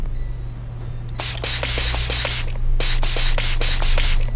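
Short bursts of spray hiss in FNAF Help Wanted 2, a rapid run of about a dozen puffs pressed out in quick rhythm, loud and close with a low steady hum beneath.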